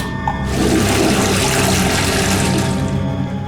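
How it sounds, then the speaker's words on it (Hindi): A toilet flushing, a loud rushing surge of water that starts abruptly and holds steady for a few seconds before easing slightly, close by with no talk. "नहीं सर, वो मैंने टॉयलेट में फ्लश कर दिए थे।"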